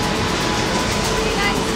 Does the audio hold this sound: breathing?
no